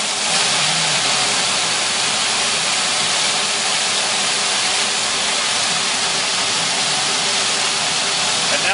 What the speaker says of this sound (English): This is a 9/16 inch nozzle, and you'll hear it spin up.